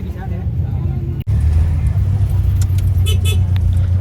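An angkot minibus rides toward Sambolo beach in Anyer, its engine droning steadily from inside the cabin with a brief break, then a low hum continuing under people talking.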